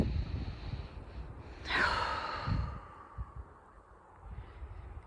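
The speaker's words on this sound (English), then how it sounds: "we take a deep breath together" A slow, deep breath taken in and released as a soft, airy sigh, close and gentle, during a quiet meditation with a low rumble of breeze behind it.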